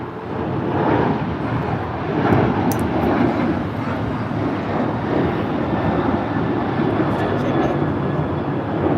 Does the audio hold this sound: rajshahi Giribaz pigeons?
no